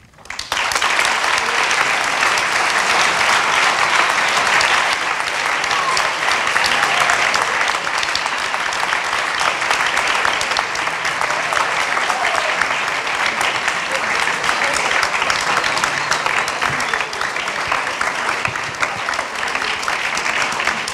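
Sustained audience applause at a public talk on Aldo Moro, dense and steady clapping from a large crowd that carries on for about twenty seconds at an even, loud level.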